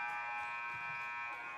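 Basketball arena buzzer ending the first half of a college men's game, Wake Tech against Cape Fear, sounding as a steady sustained electronic tone with crowd noise underneath, held throughout.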